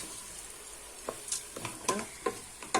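Rice and vegetables fry in hot oil, giving a soft, steady sizzle broken by short scraping stirs that come in a loose, uneven rhythm, close and fairly quiet, with no voices.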